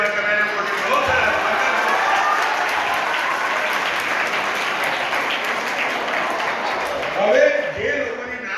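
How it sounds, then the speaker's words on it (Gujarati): An indoor audience at a Jain community gathering claps loudly and continuously for several seconds, a dense wash of applause that swells slightly near the end as voices break through. "જોરદાર તાળીઓ દીધા"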